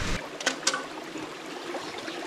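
A village river running over stones, a steady close rushing flow with a few sharp splashy knocks near the start.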